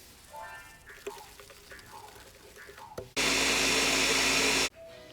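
A kitchen blender whirs loudly for about a second and a half while mixing aguachile sauce of seasoning, garlic salt and caldo de pollo, a steady dense roar that cuts off abruptly after quieter handling noises.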